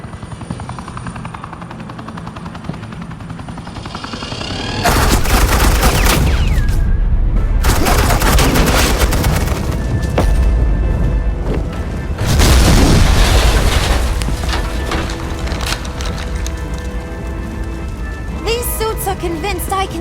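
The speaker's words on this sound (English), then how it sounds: "suppressing fire." Heavy gunfire and suppressing fire in the Telltale Batman video game, with loud bursts, booms and helicopter rumble in several intense waves, while a character speaks at times between them.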